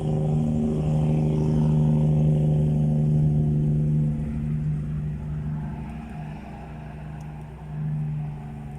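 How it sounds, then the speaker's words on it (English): A loud, noisy truck rumbles past close by with a heavy, steady low engine drone that slowly fades and then swells slightly again. "The noisy truck, yeah."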